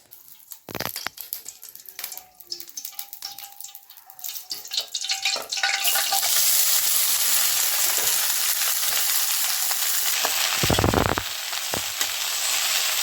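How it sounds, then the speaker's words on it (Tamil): Okra frying in oil for bhindi masala. Sparse crackles and clatter give way to a loud, continuous sizzle that swells as the pan gets busy, with a few sharp knocks near the end. "வெண்டைக்காய் போட்டாச்சு இப்போ லைட்டாக ஃப்ரை பண்ணிடுறோம் நம்ம எண்ணெயில் போட்டு ஃப்ரை பண்ணுறோம்"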